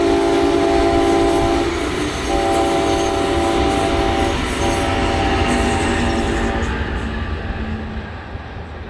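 A ten-coach Brightline train passes on the Cocoa Curve in Florida. A loud, continuous rush of wheels and rail noise comes from close by, and a sustained horn sounds through the first part before the roar slowly eases.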